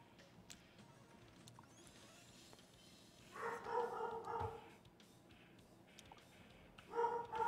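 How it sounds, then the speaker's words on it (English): A dog barks in a few short bursts at moderate distance, a pair of yaps followed by a pause and another quick bark, over a quiet background. "And there's Brandy barking"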